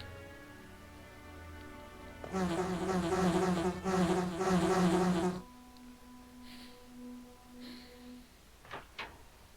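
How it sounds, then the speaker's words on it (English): A swarm of bees in the Resident Evil video game drones loudly for about three seconds in a dense, close buzz, then cuts off and leaves a quieter electronic hum with a few faint clicks. "to avoid the bees."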